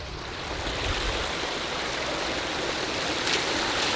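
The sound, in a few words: waterfall pouring over logs in aquascape pond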